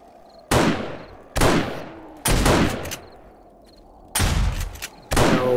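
Sniper rifle gunshots in 7 Days To Die, five loud, sharp reports spaced about a second apart, each with a short decaying tail, no talking over them.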